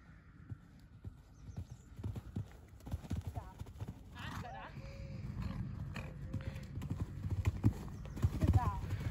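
A horse cantering in a riding arena during a jumping session, steady rhythmic hoofbeats under ongoing talk, with a couple of faint higher squeaky or whinny-like sounds mixed in.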